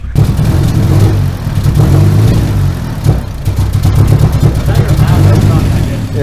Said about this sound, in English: so the truck now runs.